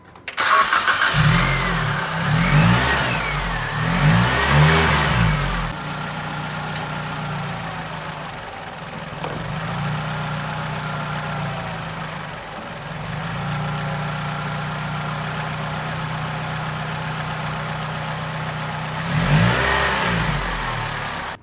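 A car engine with bad engine mounts idles steadily and close, with a few louder revs near the start and end, and no voices.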